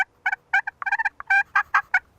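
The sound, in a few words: turkey box call imitating a turkey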